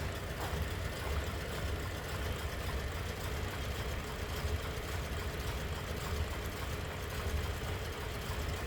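A 1936 Ford Cabriolet's flathead engine with a single carburetor idles smoothly, a steady low, quiet rumble held at an even level throughout with no one talking.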